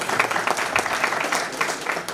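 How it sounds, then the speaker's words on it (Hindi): Brief burst of enthusiastic applause from a crowd welcoming a guest at a public event in India, dense clapping lasting a couple of seconds. "जोरदार ताली से स्वागत"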